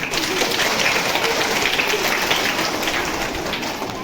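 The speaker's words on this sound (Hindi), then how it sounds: "अच्छा, तो बजा लो फिर ताली इसी बात" Schoolchildren clapping together in a classroom session, a dense, steady patter of many hands sustained for several seconds at close range.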